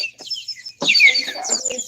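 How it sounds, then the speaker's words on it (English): Chicken clucks and bird calls as a short, bright burst of squawks and chirps, close and fairly loud, standing alone with no talk. "Birds."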